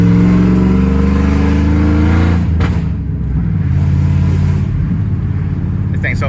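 A 1999–2006 Chevy Silverado/GMC Sierra pickup's engine idles loud and deep through a new exhaust, then revs briefly with a throaty exhaust rumble, close to the microphone, and the low growl carries on throughout.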